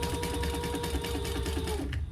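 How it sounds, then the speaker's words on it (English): A sewing machine stitches pieces of fabric together along the seam allowance, with a fast, steady mechanical whir and rapid needle ticking that runs close and continuously, then stops near the end. "So now I'm gonna sew those together at the seam allowance in the pattern."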